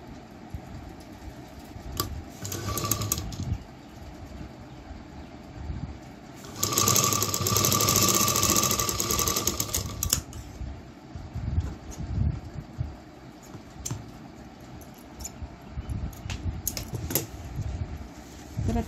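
A sewing machine stitches along a folded fabric strip, a steady mechanical whir running in bursts with a louder, denser stretch of fast stitching in the middle, then easing back to quieter intermittent running.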